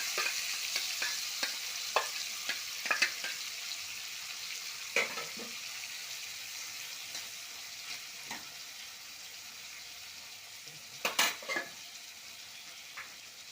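Masala-coated squid fries in a hot pan with curry leaves, giving a steady close sizzle broken by repeated sharp scrapes and clicks of stirring.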